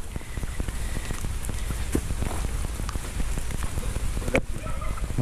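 Steady rain patters on a surface outdoors in a quiet rural yard in the Philippines, with dense scattered drops and a faint fowl call in the background, no voices.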